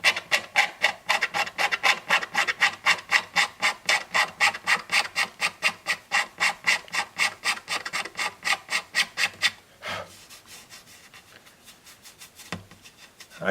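Rhythmic hand sanding of hardened CA glue over a crack repair on a Martin guitar top, a rapid series of evenly spaced raspy strokes up close, then a few softer, slower rubs at the end.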